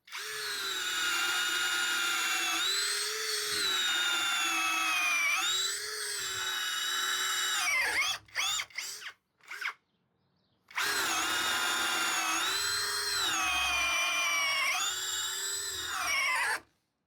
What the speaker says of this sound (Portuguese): Agora, broca Dexter 15 milímetros, porque a partir de agora as furadeiras começam a dar uma gemida maior.